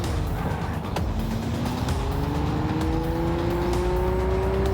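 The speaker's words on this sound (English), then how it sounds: "All the cars sound different now." Cars drive in Cyberpunk 2077, a continuous engine drone rising in pitch as one accelerates, with other vehicles passing in a steady, busy traffic wash.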